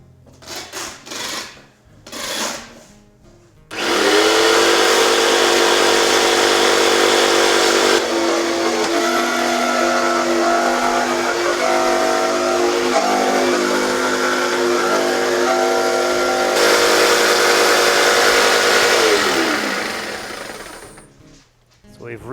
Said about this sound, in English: let's give this sawing a go.